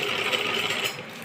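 Sewing machine stitching the seams of a kachli, a steady close whirring hum held for about a second with no voices.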